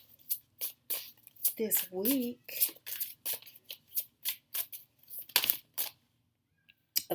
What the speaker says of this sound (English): Let me shuffle these bad boys